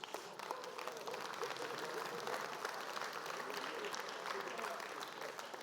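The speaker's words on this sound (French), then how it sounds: "Merci à eux, encore, on les applaudit encore." A large audience at a CFDT Services union congress applauds, steady dense clapping sustained throughout at moderate distance, with faint voices mixed in.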